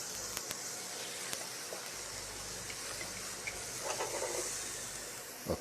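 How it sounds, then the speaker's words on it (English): Mushrooms sizzle in a hot, dry, oil-free pan, giving a soft steady hiss with small crackles and pops, faint and close, with no talking. "I love the mushrooms talking, you know, when they are like on a hot pan."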